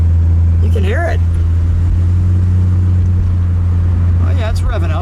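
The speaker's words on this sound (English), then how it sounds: "Oh yeah, it's revving up." The engine of a 1965 AMC Rambler American 220 station wagon hums steadily with a strong low drone while driving, heard from inside the car, as people talk over it briefly at the start and the end.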